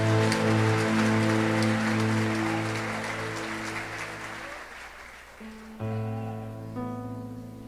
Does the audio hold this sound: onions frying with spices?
no